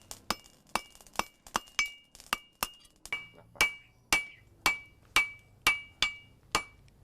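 Heavy sledgehammer blows forging a Damascus steel kris blade, roughly fifteen sharp ringing metallic strikes in a steady hammering rhythm, close and clear with a bright clink on each impact.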